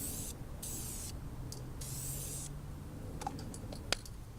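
Close aerosol spray can hissing in short and longer bursts as a dirty car valve cover gets painted, steady broadband spray with a few light clicks and taps toward the end.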